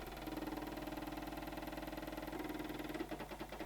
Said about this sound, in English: we're only interested in the sound the motor makes when I've pushed the red record button